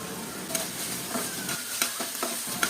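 Spice paste for prawn bhuna is stirred and fried in a pan, a soft steady sizzle broken by repeated spatula scrapes and taps at an uneven pace, close and fairly quiet.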